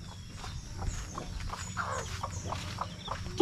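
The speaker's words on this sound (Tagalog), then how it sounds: "Ito yung manok ko pala oh." A backyard chicken clucks in short, soft bursts amid quiet farmyard ambience, heard near and fairly faint, with no talk over it.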